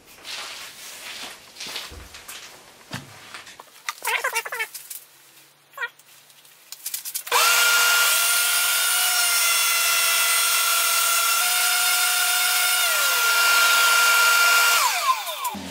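Some scraping and handling noises lead into a lathe spinning a wooden napkin ring with a steady high whine and a rough sanding hiss, running for several seconds before slowing.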